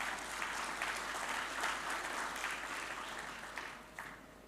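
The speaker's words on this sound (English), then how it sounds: "Please join me extending a heartfelt round of applause in recognition of this remarkable work." Audience applauding at an international CEO forum, a steady wash of many hands clapping at moderate distance that gradually thins and fades toward the end.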